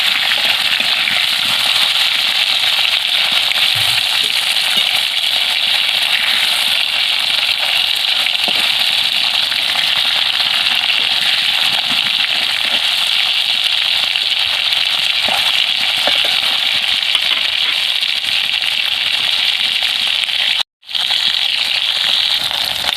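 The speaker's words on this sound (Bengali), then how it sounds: "অপর দিকটা উল্টে ভেজে নেবে" Hilsa fish sizzles and crackles in hot oil after being flipped to fry the other side, a dense, steady spitting that runs loud and unbroken apart from one brief cutout near the end.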